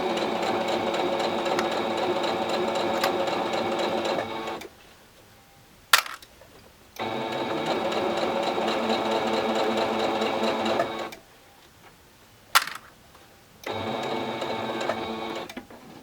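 Sewing machine stitching a handbag pocket, three long runs of rapid, steady mechanical whirring separated by quiet pauses, each marked by a sharp click, close up with no talking.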